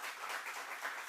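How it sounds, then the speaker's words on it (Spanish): Audience applause following a speech at a Venezuelan public address, a dense, steady wash of many hands clapping at moderate loudness for about a second, with no voices over it. "Bueno, un aplauso merece eso."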